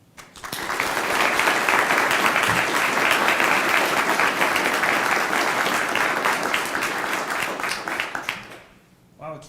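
An audience at a 2021 Air Force commissioning ceremony applauds the welcome of a major general: loud, dense clapping swells quickly, holds steady for several seconds, then fades away.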